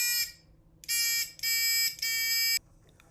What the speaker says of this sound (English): Snap the buzzer.